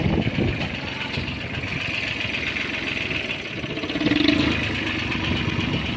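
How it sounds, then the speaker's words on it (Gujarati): A tractor engine running steadily while reversing inside a market yard, a close, rough mid-pitched diesel rumble with a slight rise in loudness partway through. "આપણે ટ્રેક્ટરને રિવર્સ લગાવશું"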